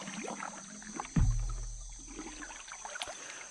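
A single paddle stroke splashes and dips into a jungle river near a canoe, followed by quiet trickling water against faint, steady insect or wildlife hum.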